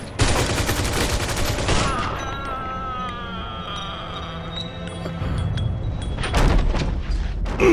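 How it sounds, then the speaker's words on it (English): Gunfire rings out in a Mafia 2 cutscene: a loud burst of rapid shots at the start, a quieter stretch with echoing tails, then another sharp volley of shots near the end. "He shot me in the fucking leg!"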